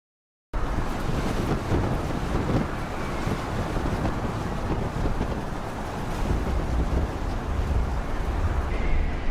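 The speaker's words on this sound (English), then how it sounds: "A giant cargo ship transports timber during a storm. These waves are quite powerful and high." Powerful, high storm waves pound around a giant cargo ship carrying timber, a dense continuous roar of surf and wind buffeting the microphone throughout, loud and close.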